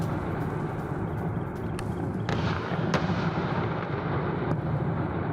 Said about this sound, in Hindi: रिहायशी इलाकों में मिसाइल गिरे।